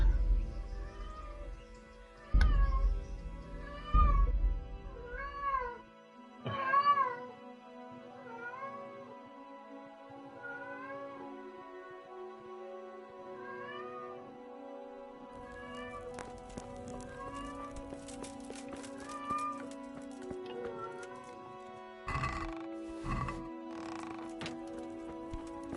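Cat meowing in the medieval RPG Kingdom Come Deliverance, a run of repeated, drawn-out mews with clear rising and falling pitch, fairly close, over quiet game ambience with a few low thumps early on.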